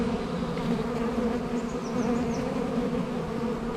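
Honeybees buzz in a dense, steady swarm as they lift off an open production beehive during placement of a honey super, a continuous close drone with no talking.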